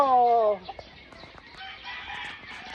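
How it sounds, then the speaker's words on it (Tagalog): A rooster's crow trails off at the start, followed by scattered clucks and soft cackling from a small flock nearby on a small urban farm in Quezon City. "Panoorin niyo yung mga manok ko"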